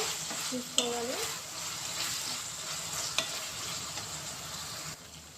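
A spoon stirs a cucumber, drumstick and tomato curry in a sizzling pan, with a soft, steady fry hiss, a couple of sharp scrapes and clinks against the pan, and a brief faint voice near the start.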